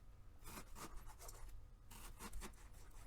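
Knife slicing through a salmon fillet into three portions in a home kitchen, a series of soft, close scraping and cutting strokes in quick succession with no voices.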